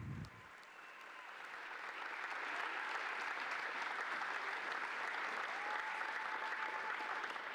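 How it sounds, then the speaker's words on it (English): A big round of applause from a high school crowd at a girls varsity basketball game between Jenison and Byron Center, swelling after a brief start and then holding as sustained, even clapping. "Please give one big round of applause for all of our athletes, coaches, and their honorees."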